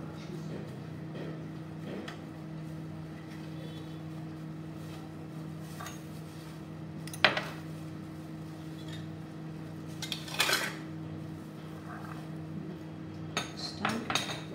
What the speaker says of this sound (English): raising the baking tray